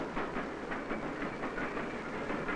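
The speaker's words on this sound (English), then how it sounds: "when he heard the sound of a train" A train passes with a steady, dense rumble and faint rhythmic clatter, heard continuously and fairly loud with no voices over it.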